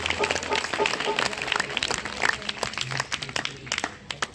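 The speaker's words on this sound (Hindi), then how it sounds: "जोरदार तालियां बजाओ" An audience at a devotional gathering claps loudly, a busy crackle of many hands that thins toward the end, with a voice speaking over the applause.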